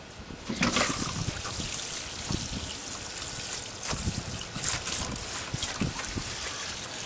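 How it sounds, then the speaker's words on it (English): Steady trickling and splashing water close by as a basil container is watered, a continuous pour with occasional soft knocks, no talking. "Let's water it in."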